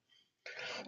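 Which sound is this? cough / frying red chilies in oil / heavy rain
cough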